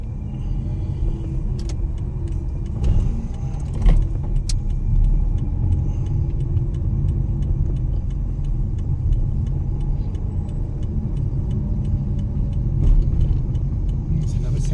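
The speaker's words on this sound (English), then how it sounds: "A bit of Spanish city driving." A car drives through light afternoon city traffic in the suburbs of Malaga, with steady close road rumble and engine drone throughout and a few faint clicks and knocks from inside the cabin.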